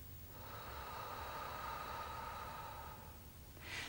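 A long, steady exhale of breath after a held inhale during a singing breathing exercise, smooth and airy for several seconds, followed by a short sharp intake near the end.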